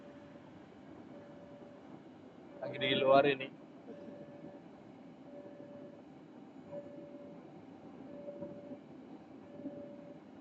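A train rumbles past outside in a short loud burst, with a low steady hum and a brief spoken remark.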